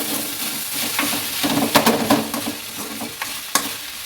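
Okra stir-fried in a pan: a soft continuous sizzle broken by clattering spatula strokes and scrapes at an irregular pace, close up, with no voices.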